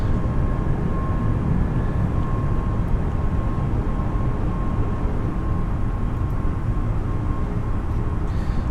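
Airbus A320 (A32NX) jet taking off in Microsoft Flight Simulator 2020: a steady, loud engine roar with a constant whine runs without a break throughout, and no one speaks.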